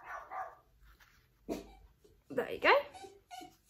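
A dog barks and whimpers indoors in short close bursts, mixed with a person talking briefly.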